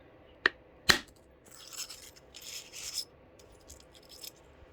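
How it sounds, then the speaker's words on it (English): Wood ground by hand against a basalt stone: two sharp knocks, then soft intermittent rasping scrapes, faint and close in a quiet setting. "Just gonna give that a little bit of a grind."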